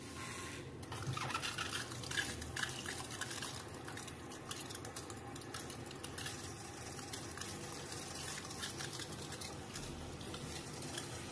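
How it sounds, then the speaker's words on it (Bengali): Water rinses hair colour from the hairline, a constant faint trickling and wet rubbing hiss, steady and close throughout with no voices. "এইভাবে হেয়ার লাইনটাকে প্রথমে ধুয়ে নিতে হবে।"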